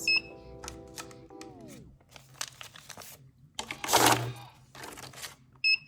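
A money counting machine counts a stack of cash in one short whirring, riffling burst, with small clicks and beeps around it and a voice talking nearby.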